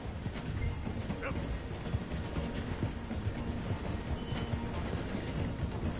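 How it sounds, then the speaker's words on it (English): A train in the Red Dead Redemption video game slowing down to pass through a station, giving a steady, loud rolling rumble with a clattering texture throughout. "The train is slowing down to go through the station."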